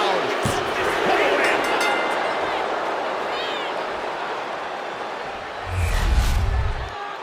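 A loud, sustained crowd roar from the WWE 2K25 wrestling video game fills the clip, rising in a burst near the end with a deep thud, like an arena audience cheering.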